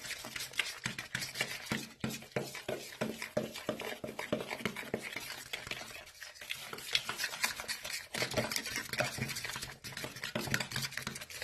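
Steady scraping and stirring of a thick flour and water mixture in a bowl, continuous close-up mixing with soft clinks of a utensil, no talking.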